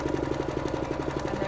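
Sewing machine stitching along a long layer of fabric for a hoop skirt, a rapid, even mechanical chatter of needle strokes at a steady pace, close and continuous, with no talking.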